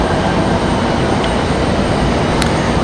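An Airbus A220-300 of Breeze Airways on final approach into Raleigh-Durham, a steady loud broadband jet roar that holds level throughout with no voices.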